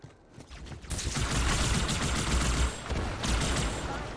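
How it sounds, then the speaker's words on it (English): Loud grenade blast in Halo 2 Anniversary during a legendary-difficulty run, a sharp burst near one second swelling into a dense, rumbling roar that holds for several seconds with another surge toward the end. "Okay, grenading."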